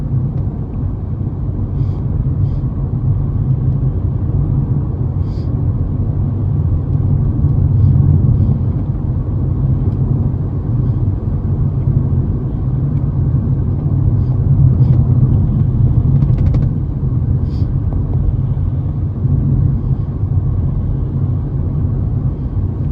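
A 2009 Aston Martin DB9 cruising in sport mode in fifth gear on a bumpy road, with a steady, loud low engine and road rumble throughout and a few faint knocks and rattles from the uneven surface.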